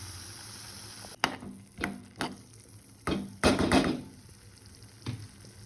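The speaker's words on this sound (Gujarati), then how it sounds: "બાફેલા તુવેરના દાણાને આપણે ગ્રેવીમાં એડ કરી દઈએ." Boiled pigeon peas are added to a spiced gravy in a pan: several sharp spoon taps and knocks with brief soft sizzles between them, fairly quiet overall.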